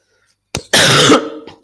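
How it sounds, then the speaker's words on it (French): A single harsh cough, loud and close to the microphone, followed by a short breathy tail and a faint throat sound. "je suis désolée, je tousse dans le micro"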